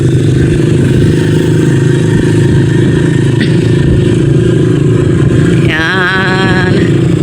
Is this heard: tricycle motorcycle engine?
yes